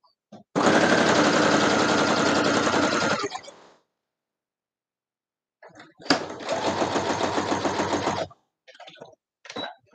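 Sewing machine stitching fabric pieces for a scissor holder, running in two steady bursts of about three seconds each with a pause between, then a few short backstitch runs near the end.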